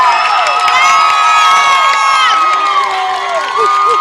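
A high school football crowd cheers and shouts in the stands at a Providence vs New Brockton game, with loud overlapping voices and whoops rising and falling, children's shrill shouts standing out over the din.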